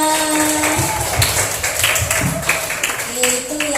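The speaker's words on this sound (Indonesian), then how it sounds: "tepuk tangan buat Mbak Naswa." A classroom of students applauds together, a dense, fairly loud burst of clapping lasting a few seconds with voices blended in.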